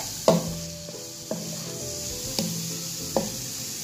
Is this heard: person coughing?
no